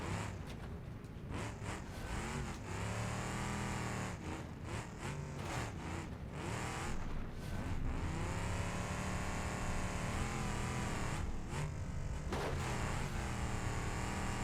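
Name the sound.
trophy truck prerunner racing over whoops in BeamNG.drive video game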